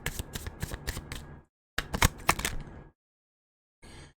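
Tarot cards shuffled in two quick, crisp riffling bursts, followed after a pause by a brief soft slide as a card is drawn, close and clear.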